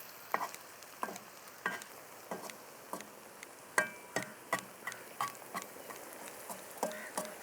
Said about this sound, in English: I'm basically chopping them as they're cooking.